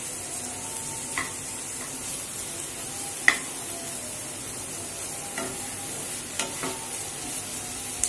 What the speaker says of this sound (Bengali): পেঁয়াজটাকে আমরা একটু হালকা হাতে নেড়ে নিচ্ছি।